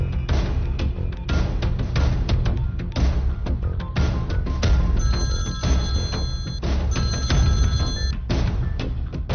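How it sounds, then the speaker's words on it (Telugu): A telephone bell rings repeatedly in loud, steady bursts, filling the scene with a continuous electronic trill and no voices over it. "దుగ్గల్ కి ఫోన్ కొట్టు."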